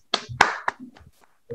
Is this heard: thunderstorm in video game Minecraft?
no